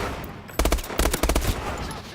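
Bursts of semi-automatic gunfire in Call of Duty Advanced Warfare, three quick groups of loud, closely spaced shots over steady game background noise.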